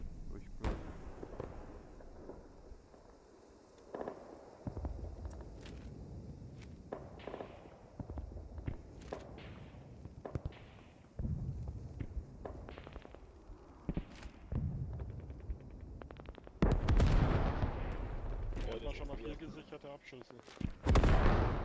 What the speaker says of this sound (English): Explosion im Süden gehört